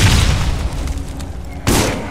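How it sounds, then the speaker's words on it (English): Shotgun blasts in the video game Borderlands: a heavy boom at the start that decays over about a second and a half, then a second loud blast near the end, both booming and close with no talking. "Yeah, I'm liking this shotgun."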